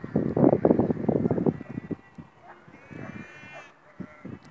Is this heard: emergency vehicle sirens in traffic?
no